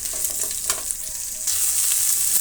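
Chopped onions frying in a pan with chana dal for a beetroot masala palya, a steady sizzling hiss with occasional stirring scrapes that grows louder and fuller partway through.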